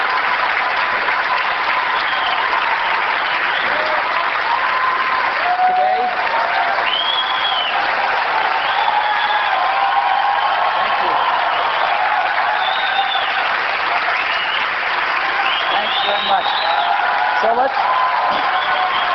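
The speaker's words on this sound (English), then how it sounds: "It's a lot of applause when you guys do all the work." Sustained audience applause filling a large event hall at a 1999 event, dense and steady throughout with scattered whoops and cheers rising above the clapping.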